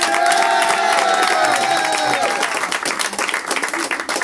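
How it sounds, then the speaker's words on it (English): Crowd at a live cash-giveaway event clapping and cheering for a contestant in an applause vote, a loud burst of hand claps mixed with whoops and a sung or shouted tone at first, thinning into scattered claps. "If you like Derek number one, clap your hands"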